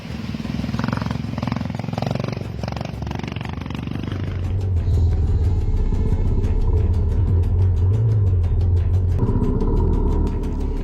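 A trail motorcycle rumbles over a wooden plank bridge in Davao de Oro, its engine loud and close, with a steady drone, a rising rev partway through, and dense rattling clatter from the boards beneath the wheels.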